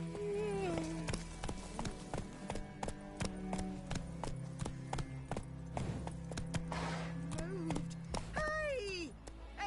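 Roach, the horse in The Witcher 3, clip-clops along with steady hoof beats through the whole stretch, layered under game dialogue and voices with music.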